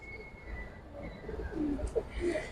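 A pair of Giribaz pigeons gives a few short, soft coos at low volume, scattered across a quiet background.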